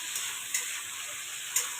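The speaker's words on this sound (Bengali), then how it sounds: "আলু আর ফুলকপিটা ভালো করে ভেজে আমি তুলে রাখবো।" Potato and cauliflower pieces fry in hot oil for khichuri, giving a soft, steady sizzling hiss with a few brief crackling pops, close and quiet, with no talk.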